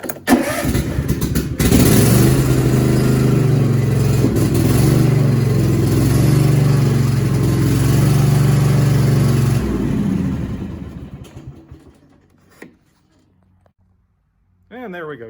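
A Cub Cadet XT2 lawn tractor's small engine cranks and catches after a battery replacement, then runs at a steady loud idle for several seconds before cutting off; a brief rattle follows, then it restarts.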